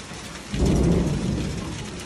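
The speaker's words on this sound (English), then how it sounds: "a severe hailstorm hit central and southern Alberta." A severe hailstorm with rain in central and southern Alberta, heard as a steady roar of precipitation that swells with a low thunder rumble partway through and then eases slightly.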